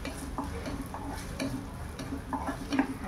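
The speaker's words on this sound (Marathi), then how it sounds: "आता हा कांदा आपण शिजून देऊया" Onion cooks in a pan with a soft steady sizzle, punctuated by light repeated scrapes and taps of a spoon stirring against the metal, close and moderately quiet with no voices.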